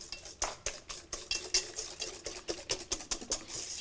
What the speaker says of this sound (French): Je vais bien mélanger.